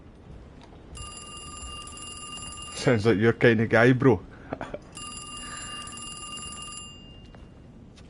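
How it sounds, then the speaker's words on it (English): A telephone rings in the survival horror game Alone in the Dark, the remake of the 1992 original: two bright ringing stretches with a voice talking briefly between them. "Is that his phone? Go on, answer it."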